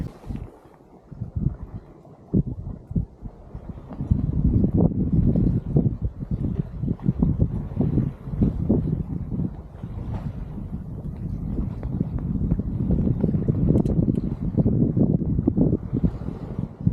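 A sailing boat's engine runs offshore in calm, windless open water, a steady low rumble that starts quietly and grows louder and fuller after a few seconds, continuing close by with no talking.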